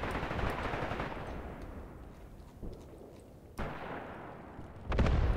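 Light infantry guns fire in the wartime strategy game Graviteam Tactics, sharp distant reports cracking out at irregular intervals over a continuous rumble of battle, with a heavier burst near the end.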